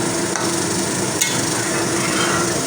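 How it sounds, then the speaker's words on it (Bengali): A spoon stirs doi katla, a Bengali yogurt fish curry, in a pan, giving continuous close scraping and rubbing with a brief clack near the middle. "দিয়ে নেড়ে দেবো গরম মশলাটা সব জায়গায় মিশে যাবে"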